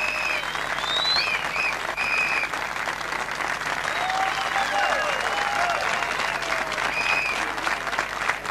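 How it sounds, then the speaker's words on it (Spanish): A crowd gives sustained, loud applause for a group of musicians, dense clapping rolling on steadily while scattered whistles and cheers rise over it. "¡Fuerte el aplauso para ellos!"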